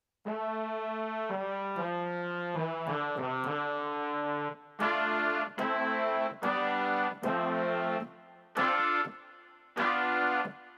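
A sustained Mellotron M400 brass tone plays a slow sequence of held chords, then shorter detached stabs, with a roomy reverb tail between notes.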